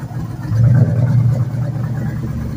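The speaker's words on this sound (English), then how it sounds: "But it does crank up and run." An old car's engine idles steadily nearby, a deep, continuous low rumble with a slight swell early on, and no one speaks over it.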